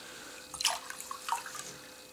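Water pours and splashes into a small measuring cup in a few short, close bursts, with light dripping between them.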